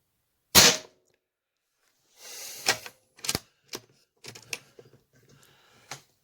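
A Hatsan Flashpup .25 air rifle fires a single sharp shot of JSB Exact pellets, a loud crack followed by a few fainter clicks and rattles of handling, with no talk.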